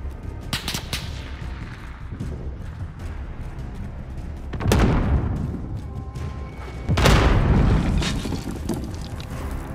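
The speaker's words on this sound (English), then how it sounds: "Enemy precision airstrike, take cover!" Heavy explosions from a precision airstrike in Call of Duty: Modern Warfare hit twice, each a loud booming blast with a rumbling tail, amid sharp gunfire cracks and constant combat noise.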